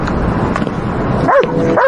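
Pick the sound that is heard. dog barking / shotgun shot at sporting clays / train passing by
dog barking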